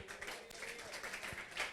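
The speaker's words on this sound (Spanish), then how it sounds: "Demos palmas a Dios." A church congregation claps their hands together in praise, a faint, fairly steady patter of many hands from across the room.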